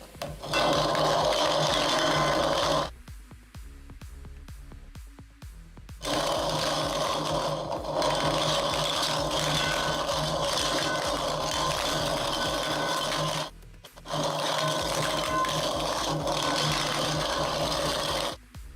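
Numbered lottery-style balls tumble and rattle in a clear bowl, a dense, loud clattering mix in long bursts separated by brief pauses, with no voices over it.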